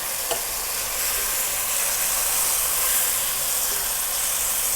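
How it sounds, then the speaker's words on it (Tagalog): Tomato, garlic, ginger and onion sautéing in a pan: a steady, close, loud frying sizzle with a single clink of a utensil near the start. "So, gigisahin ko lang siya ng mga 2 minutes."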